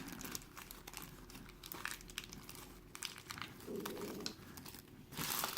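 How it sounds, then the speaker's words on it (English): Plastic blister packaging gets pulled off an anime figure of Jibril during unboxing, with close crinkling and crackling bursts, irregular handling noises and a louder rustle at the end. "Let's get this blister out of the way. And all the plastic and stuffs."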